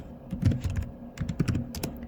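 Keys clatter on a computer keyboard in steady bursts of quick, close clicks as someone types a prompt into Microsoft 365 Copilot, with no voice over the tapping.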